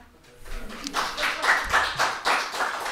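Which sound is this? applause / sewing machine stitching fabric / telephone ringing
applause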